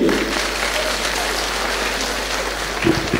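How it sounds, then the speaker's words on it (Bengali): An audience at a marketing company celebration gives a burst of loud, dense clapping that continues steadily, with a voice briefly audible near the end. "ওনাদের জন্য আমাদের ফ্যামিলির তরফ থেকে জবরদস্ত হাততালি"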